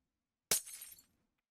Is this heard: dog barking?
no